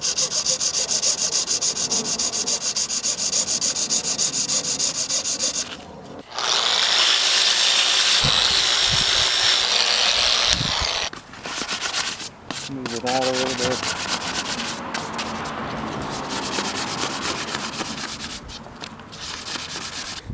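A windsurf sail batten is sanded down at the front in loud, continuous rasping strokes, with brief pauses and changes in pressure and a few short scraping bursts between passes.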